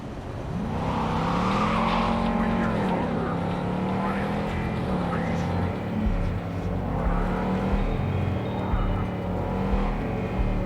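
A car in the video game Cyberpunk 2077 drives steadily, its engine holding a constant drone that rises and shifts in pitch, loud and close, with speech partly over it.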